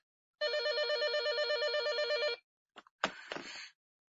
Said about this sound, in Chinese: 哎呀，电话来了。